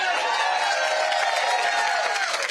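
Fired-up crowd at a political rally in Rome, Georgia, a dense, continuous roar of cheering and shouting that stays loud throughout.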